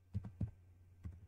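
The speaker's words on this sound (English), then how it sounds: "I'm going to click in the search bar and I'm going to type in social media ad" A few soft keystrokes on a computer keyboard as text goes into a search bar, faint muffled taps in two small clusters over a low steady hum.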